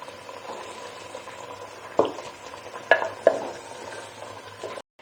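A spoon stirs a mixture of onion, dried coriander and chicken roasting in a pot for Lahori murgh cholay. A faint, steady sizzle runs throughout, broken by a few sharp scrapes against the pot.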